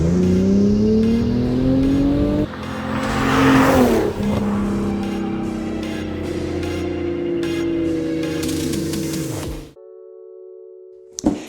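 A Hyundai Genesis Coupe with the 3.8L V6 pulls hard under full throttle, its engine note climbing steadily through the gears with brief shift breaks, loud and close from inside the car, before cutting out abruptly.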